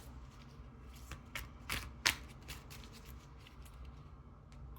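Oracle cards being shuffled by hand in a quiet room, a soft continuous riffle of card edges broken by a few sharper flicks and snaps, with no talking.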